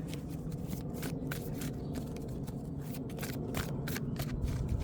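Cards being shuffled up close, a rapid series of crisp riffling flutters repeating in quick bursts with no talking.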